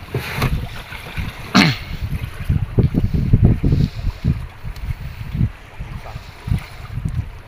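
Strong wind at sea buffets the microphone on a small fishing boat in bad weather, with loud irregular gusty rumbles and thumps continuing throughout.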